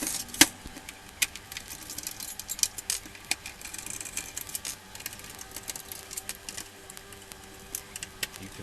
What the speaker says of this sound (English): Using your Torx screwdriver, remove the screws.